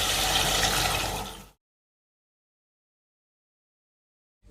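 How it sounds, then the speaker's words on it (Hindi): Water is poured into spiced chana and masoor dal in a pressure cooker, a loud close gush for about a second and a half before it stops abruptly, then silence. "इस स्टेज पे मैं इसमें पानी डालूंगा।"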